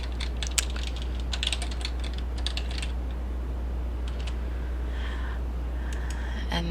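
Keystrokes on a computer keyboard come in quick irregular bursts at moderate distance, then scattered taps later on, over a steady low hum.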